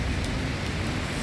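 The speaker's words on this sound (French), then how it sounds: "il pleut des cordes" Heavy rain pours down on a street in Akihabara, Tokyo, as a dense, steady hiss that fills the whole moment without a break, close and continuous, with no voices.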